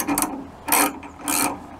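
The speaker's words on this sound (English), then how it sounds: "if you put the wrench on here, it'll just keep on spinning" A wrench ratchets on the alternator pulley nut of a VW Type 1 engine, spinning freely in three short clicking bursts separated by brief pauses, close by.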